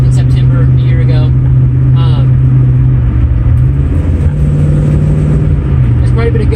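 A 1963 Ford Falcon with an aftermarket exhaust drives along, its engine droning in a loud, steady low rumble throughout while someone talks over it.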